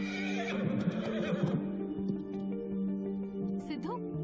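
A horse neighs and whinnies several times in a stable or practice yard, loud and close, over a background of dialogue and film music, with a final whinny near the end.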